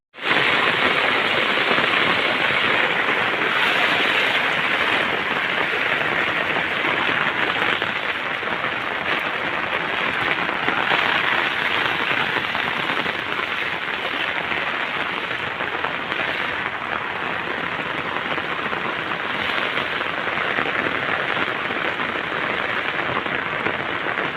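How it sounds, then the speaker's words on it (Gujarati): Heavy rain pours down steadily on villages near Savarkundla, leaving knee-deep water, a dense, loud and unbroken hiss of water drumming on surfaces. "કેટલો વરસાદ પડી ગયો એ ગોઠણા પાણી"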